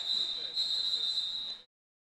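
A long, steady referee whistle blast at a roller derby game, one sustained shrill tone lasting about a second and a half before cutting off abruptly into silence.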